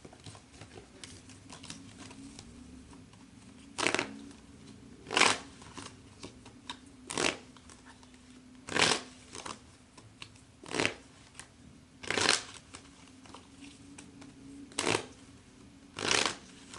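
A deck of cards is shuffled in repeated bursts, each a short riffling rattle spaced a second or two apart, close and fairly soft, with no talking.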